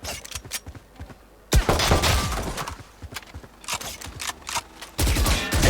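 Gunfire in the video game Valorant during a training range session, with rapid bursts and single crisp shots cracking in clusters, loud and close, separated by short quieter gaps.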